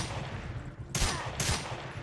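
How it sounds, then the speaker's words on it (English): Loud gunfire in an indie video game comes as two dense bursts of rapid shots close together, over a constant background hum of in-game ambience. "the gunshots are so loud"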